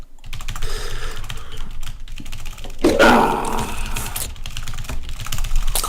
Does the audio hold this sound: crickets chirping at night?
no